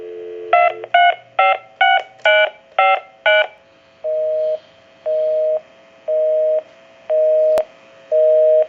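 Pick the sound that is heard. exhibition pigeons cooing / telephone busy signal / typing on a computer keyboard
telephone busy signal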